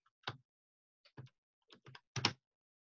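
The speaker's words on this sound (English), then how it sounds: "Just by typing some words," Fingers tap a few keys on a computer keyboard in quiet, sparse clusters, with short pauses between the clicks.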